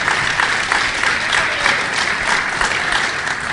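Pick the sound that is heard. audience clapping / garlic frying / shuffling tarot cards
audience clapping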